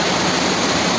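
Heavy rain pours down in a dense, unbroken roar, loud and close, with no voices over it.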